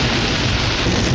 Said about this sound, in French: Un déluge s'annonce dans le lointain.